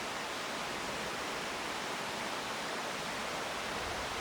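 A steady, full rush of water from a river flowing over moss-covered cascades through deep Smoky Mountains forest, continuous and close with no voices.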